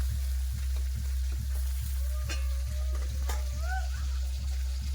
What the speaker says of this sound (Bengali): খুব ভালো করে মাছ ভেজে গেছে